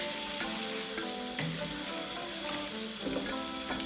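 Tomatoes are stirred into a Ghanaian cabbage stew frying in a pot, giving a steady bright sizzle broken by spoon scrapes and clinks against the pot.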